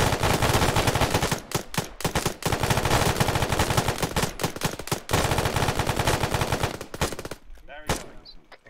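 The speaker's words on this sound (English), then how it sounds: "He's still shooting." Loud, sustained automatic gunfire in a military video game, rapid bursts hammering close with brief gaps and a fading tail at the end.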